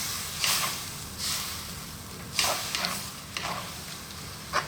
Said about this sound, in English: we're now going to add in coconut milk. And we're going to cook that just for another 2 minutes